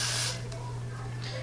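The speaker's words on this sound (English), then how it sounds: "I spray a little bit, and I use my finger to kind of spread it out a little bit" Got2B Glued hair spray sprayed onto a wig, a short hissing burst at the start followed by a brief second spray near the end over a low steady hum.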